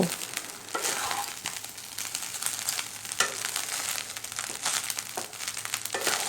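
Jeera rice fries over a medium-low flame in a pan, a soft continuous sizzle with repeated scraping and rustling stirs of the grains, close and without talk.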